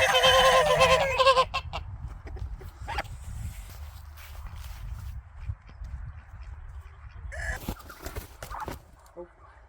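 Ducks honking and quacking loudly at first, then scattered quieter quacks and shuffling movement, with a brief burst of calls near the end.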